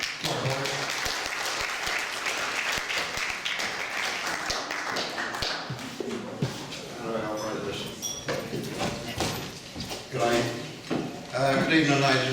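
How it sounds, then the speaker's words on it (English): An audience at a charity evening of speeches claps in a dense, continuous patter for a speaker, with voices rising over the applause near the end. "So would you please give a round of applause for Paul Nield, please."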